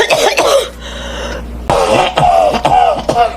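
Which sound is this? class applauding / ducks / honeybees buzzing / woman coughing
woman coughing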